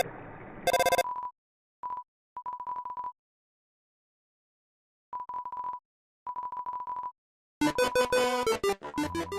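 Undertale's in-game phone ringing plays as short electronic trill bursts separated by silences, opening and closing with louder chiptune-like blips, clean and close.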